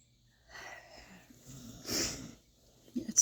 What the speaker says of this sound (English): It's Sadie. Sadie's snoring